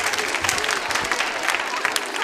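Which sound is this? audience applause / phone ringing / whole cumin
audience applause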